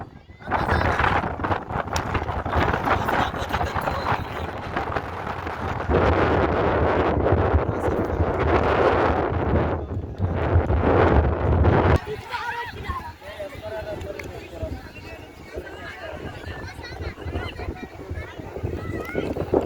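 Wind blows hard across an outdoor football pitch during a match, a loud, steady rushing roar that buffets the microphone throughout and eases slightly in the last few seconds, with voices talking over it.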